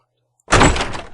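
An office door thuds open after being unlocked: a single close, solid knock that rings out briefly and then fades, with nothing else around it.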